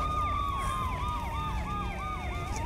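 Several police and fire truck sirens wail at once with rising and falling sweeps, loud and steady, layered over low traffic rumble.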